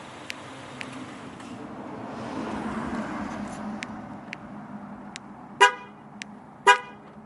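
A Honda Pilot locked by remote starter answers with two short, sharp horn chirps, preceded by faint clicks and distant traffic-like background.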